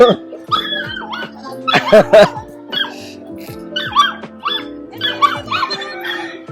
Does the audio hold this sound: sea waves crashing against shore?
no